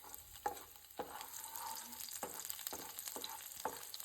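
Garlic frying in a little oil in a pan, a soft, quiet sizzle broken by periodic spatula scrapes and clicks at a steady stirring pace, with no speech.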